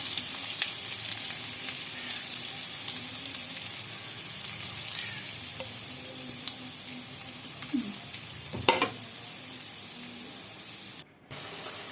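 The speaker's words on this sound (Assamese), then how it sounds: "আপোনালোকে হাই ফ্লেমত ডিপ ফ্ৰাই কৰিব" Curd-soaked taro-leaf fritters deep-frying in oil over a high flame, a soft continuous sizzle with occasional clinks and scraping of a utensil, one brief louder knock near the end.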